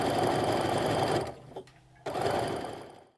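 A sewing machine stitches quilt pieces in a fast, close, steady whir that pauses briefly in the middle before running again and winding down.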